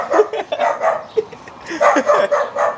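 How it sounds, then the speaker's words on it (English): Dogs barking at a fence outdoors, a string of irregular barks and yips at moderate distance with people talking over and between them. "They're barking at a fence or some shit?"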